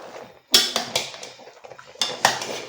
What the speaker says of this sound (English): I'll give it an awesome stir